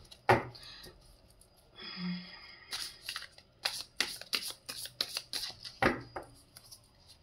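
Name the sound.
shuffling tarot cards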